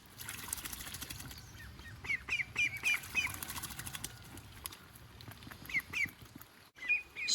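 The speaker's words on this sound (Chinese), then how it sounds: "八哥游泳。" A myna bird bathing in a duck's water basin in the rain, soft splashing and fluttering wing flaps with occasional short chirps, close and fairly quiet against a wet background.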